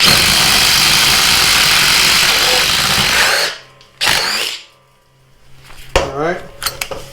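A cordless impact driver fitted with a half-inch drill bit in a quick-insert collet bores a hole, giving a loud, steady whirring grind for about three and a half seconds before it stops abruptly, followed by a few quieter clatters.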